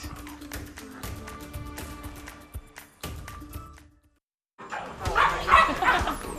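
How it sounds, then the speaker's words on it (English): Puppies yip and bark in short bursts around a televised puppy bowl, with clattering taps and scuffles, a brief silent gap, then louder, busier barking and play noise, with voices faintly mixed in. "Best part, Ryan, all of these puppies and the kitten cheerleaders, they're up for adoption."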